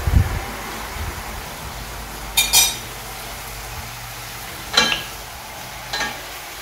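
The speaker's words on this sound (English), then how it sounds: "I'm just going to give that a stir." A spoon stirs a stock cube into about 300 ml of boiling water, giving a few brief clinks and scrapes against the container over a quiet background.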